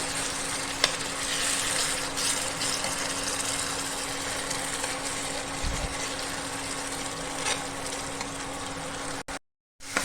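Cashew, poppy seed and coconut paste frying and being stirred in a pan for Nilgiri chicken masala, a steady close sizzle with scraping strokes, continuous and fairly loud with no voices.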